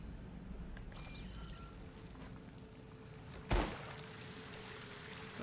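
Water pouring and trickling inside a mine in the video game Horizon Forbidden West, a faint steady flow with a sharper splash-like burst partway through, no voices over it.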